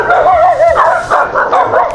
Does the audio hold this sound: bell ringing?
no